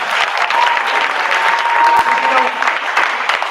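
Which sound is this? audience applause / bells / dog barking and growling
audience applause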